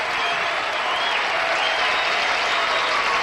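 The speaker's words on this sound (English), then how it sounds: "That clapping was definitely out of tempo." A studio audience at a 1978 NBC daytime taping of the game show Card Sharks claps out of tempo in a dense, even wash of applause that holds at a constant level throughout, with no talk over it.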